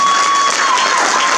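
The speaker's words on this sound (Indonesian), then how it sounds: "Tepuk sekali lagi." Loud, dense applause from an audience, steady clapping filling the room without pause.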